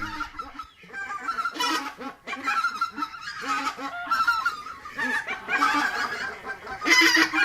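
A flock of geese honks loudly and repeatedly near Téteghem, overlapping calls rising and falling in bursts with no voices over them.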